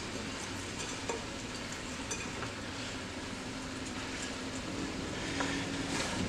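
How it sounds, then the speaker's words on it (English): Onions sizzling in a pot on medium heat for French onion soup, a steady dense frying hiss with occasional scrapes and clinks of stirring, close and continuous with no talk. "We're going to add the rest of the onions."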